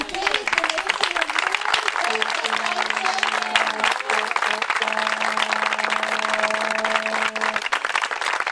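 An outdoor crowd applauds for a group of women finishing an open-water river swim along the coast at Goya–Reconquista, scattered clapping mixed with cheering and a few sustained calls or whistles, fairly close.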